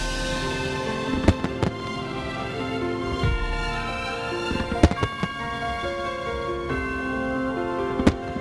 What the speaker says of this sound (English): Macau is lit up by the spectacular fireworks